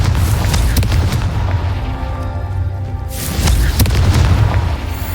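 Booming spell explosions from casting Confringo in a Harry Potter video game, two loud rumbling blasts with whooshing tails, roughly three seconds apart over continuous game noise.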